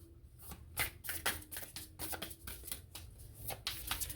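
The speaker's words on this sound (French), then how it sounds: "Oups, j'ai échappé toutes les cartes." Tarot cards are gathered up and shuffled by hand after being dropped, making a rapid series of crisp riffling and flicking bursts, close and fairly loud, with no speech.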